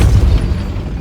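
Casting the Depulso spell in Hogwarts Legacy produces a loud, deep boom that bursts at once and rumbles off over about a second, with no talk over it.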